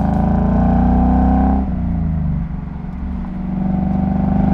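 A 2015+ Ford Mustang GT fitted with a Ford Performance by Borla axle-back exhaust rumbles loudly at a steady idle, then dips briefly and settles back into a deep, even burble, with no one speaking.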